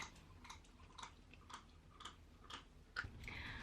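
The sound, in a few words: pet chewing while teething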